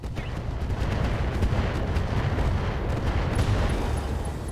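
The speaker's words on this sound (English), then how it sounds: "The Boar's Head is going to drop its artillery on this Ghost." Mech artillery and weapons fire in the BattleTech mod RogueTech: a dense, continuous barrage of booming blasts and rumbling impacts, loud and sustained with no pauses.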